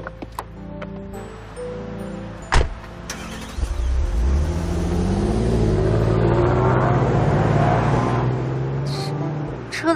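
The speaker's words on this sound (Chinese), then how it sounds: "车子声音大就了不起" A car engine revs loudly, swelling into a sustained, rising roar after a brief thump, and holds near until it fades slightly at the end.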